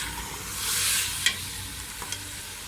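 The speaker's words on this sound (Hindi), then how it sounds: "ये आप देख सकते हैं लौकी की अच्छी तरीके से बुनाई हो गई है।" Bottle gourd frying in oil with turmeric gives off a soft, steady sizzle, with a sharp spoon clink and a couple of fainter taps against the pan.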